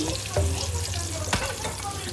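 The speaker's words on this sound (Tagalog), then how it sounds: "nagisa na ako ng bawang sibuyas and luya. Ito na. Mix-mix na natin." Sautéed garlic, onion and ginger sizzle in a pan while being stirred, with a steady frying hiss, occasional scrapes and clinks, and faint background murmur.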